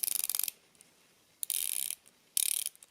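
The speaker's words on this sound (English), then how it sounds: "So one thing I've been waiting to hear is the bezel on here" The ratcheting bezel of a Timex M79 automatic dive-style watch is turned up close in three quick bursts, each a dense run of sharp, rapid clicks separated by short silences.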